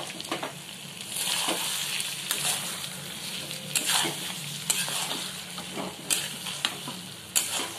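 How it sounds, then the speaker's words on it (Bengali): A paneer mixture is stirred in a pan, a spatula scraping and clacking at irregular intervals over a soft steady sizzle, close and fairly quiet with no one talking. "তার আগে, জলটা দেওয়ার আগে আমি এটাকে একটু নেড়ে নেব।"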